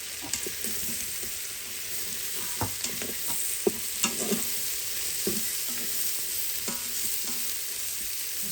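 Mushrooms sauté in a hot pan for cinnamon pork chops, a constant crackling sizzle punctuated by scattered scrapes and knocks of stirring, close up with no talking.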